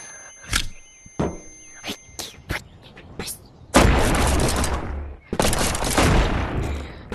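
Gunfire in the VR game Animal Company's PvP mode: a series of sharp separate shots followed by two long dense bursts of rapid fire, loud and close.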